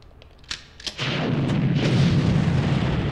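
Tank firing in the Army Men 3D video game, two quick light pops and then a heavy boom that spreads into a sustained loud rumble with further blasts inside it.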